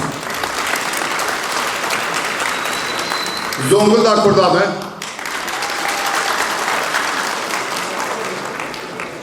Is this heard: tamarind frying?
no